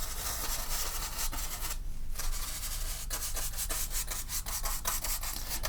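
A paintbrush scrubs across canvas in crisscross strokes, making close, dry, scratchy rubbing with a rapid back-and-forth rhythm and a brief pause partway through.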